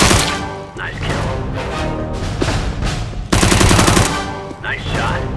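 Rapid gunfire in a video game, loud, close bursts of shots with sharp cracks and short pauses between volleys, with brief voices heard among the shooting.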